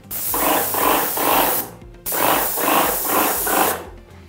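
A paint spray gun hisses in two runs of short, even bursts, each stroke a loud close hiss with brief gaps between, and a pause between the two runs.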